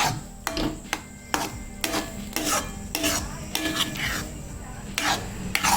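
Thick ragi porridge (koozh) is stirred in a pan: loud, rhythmic scraping strokes about once a second over a low simmering background, close to the listener.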